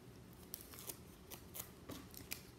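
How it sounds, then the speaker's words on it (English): Several crisp snips of scissors cutting paper triangles from the corner of a sheet for straw rocket fins, close and quiet, in an irregular rhythm. "So you got to cut a couple triangles, and I always just go to the corner of my paper."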